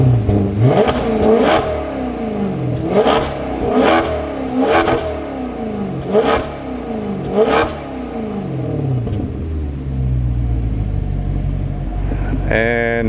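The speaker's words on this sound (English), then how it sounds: "that's what a Maserati sounds like stock" A stock Maserati engine revs hard in a series of sharp bursts, each rising and dropping back, before settling into a deep steady idle.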